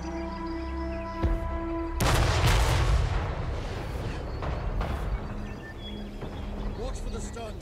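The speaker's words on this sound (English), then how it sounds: "Cannons fire!" Heavy cannon blasts from Total War: WARHAMMER III erupt with booming rumble and crackling debris during a castle siege, one big hit followed by further shots over a steady electronic tone.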